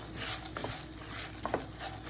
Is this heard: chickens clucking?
no